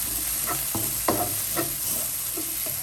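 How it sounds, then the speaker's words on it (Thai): Pounded chili and garlic paste with coriander root stir-fried in a pan for a sweet-sour-spicy fish sauce, a soft constant sizzle broken by intermittent spatula scrapes and taps, close by and without voices. "แล้วเดี๋ยวเอาพริกลงผัดนะคะ"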